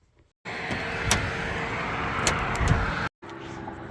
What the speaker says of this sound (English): Now time to go for a test drive.